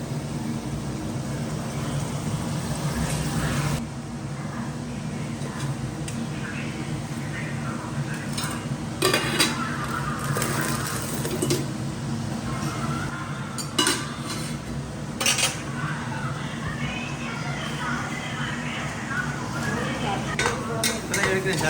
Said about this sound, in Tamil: இந்த வெங்காயத்தை வந்து நல்லா வதங்கணும்